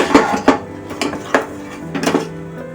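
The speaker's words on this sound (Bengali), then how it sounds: "কড়া বসিয়েছি গ্যাসে, দেবো তেল।" A metal kadai being set down on a gas stove, several short clanks and knocks of metal against the burner grate, close and fairly loud, with no talking.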